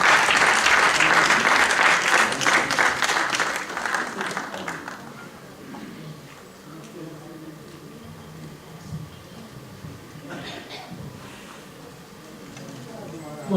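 Loud, dense applause from a mushaira poetry gathering audience, steady for about five seconds before fading into quieter room noise with scattered claps and a brief renewed burst.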